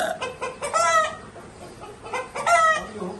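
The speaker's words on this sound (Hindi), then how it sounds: "कौन सा मुर्गा है ये?" Rooster calls from a pricey Muzaffargarh-type fighting cock, two loud clucking, crowing bursts close by, the first near the start and the second about two seconds later, with quieter pauses between and no speech over them.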